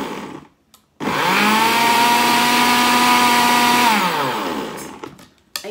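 A blender runs at full power for about three seconds, blending a spinach and apple smoothie. Its loud, steady motor whine is close and starts and stops abruptly, with no voice over it.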